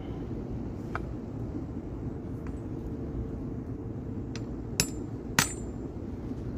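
A red-hot iron chain is struck with a hammer. Sparse metallic blows, most of them faint and two sharper ones near the end, sound over a steady low background rumble.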